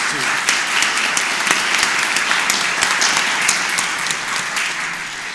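Steady, dense applause from the audience at a chorale concert in Wallowa County, many hands clapping together at a near, loud and even level throughout.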